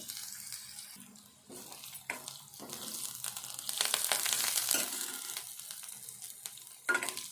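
Onion, coriander and curry leaves frying in a pan for a tangy bitter gourd curry give a steady broadband sizzle that swells midway, with a few spoon stirs and a sharper clatter near the end.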